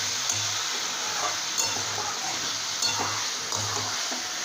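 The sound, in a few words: mixed vegetables sautéed with spice paste in a pan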